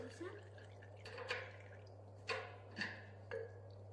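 Water drips from a radiator being drained, a few separate plinks landing at irregular intervals into liquid, quiet and close, over a low steady hum with faint talking.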